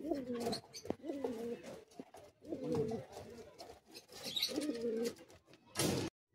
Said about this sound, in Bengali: পায়রাটিকে ছেড়ে দেখাচ্ছি, দেখুন।